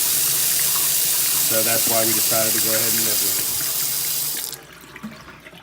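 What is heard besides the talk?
Delta kitchen faucet sprayer running water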